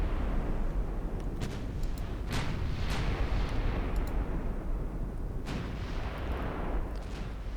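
Warship guns fire at very long range in the naval battle game Ultimate Admiral Dreadnoughts, giving a run of loud, sharp booms over a constant rumbling roar.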